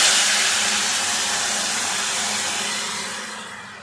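Cooked toor dal and bottle gourd go into a hot tempering with curry leaves for sambar, setting off a loud, dense, continuous sizzling hiss that slowly fades.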